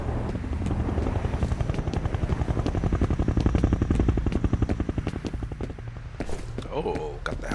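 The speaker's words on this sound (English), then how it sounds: "Helicopters here." Helicopter rotor chopping in the horror shooter F.E.A.R., a loud, steady rhythmic thudding that swells and then fades, with a voice speaking briefly near the end.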